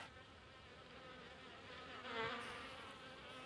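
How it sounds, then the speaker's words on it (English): Many insects buzz together in a steady, faint drone, sounding like a nearby swarm of bees. "There are a lot more bees than I thought there were"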